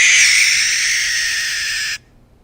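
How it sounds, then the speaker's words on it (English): A captive two-year-old barn owl, imprinted and raised from an egg, gives one long raspy screech lasting about two seconds, loud and close, before it cuts off abruptly into near silence. "She is our ambassador barn owl."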